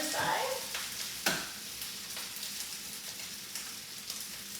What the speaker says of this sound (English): I'm gonna put my egg onto the other side.